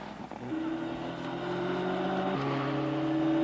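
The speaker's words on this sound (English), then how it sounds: "His car also sounds a little slow. He might be down a little horsepower." A rally car's engine holds a steady drone near the finish of a dusty 1998 SCCA Pro Rally stage, sounding somewhat down on power, with its pitch stepping down partway through; loud and continuous, with no talk.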